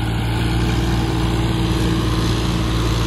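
A Sonalika DI 35 tractor in second gear hauls a loaded soil trolley up a slope. Its engine gives a loud, steady, low-pitched drone that holds without a break, with no voices.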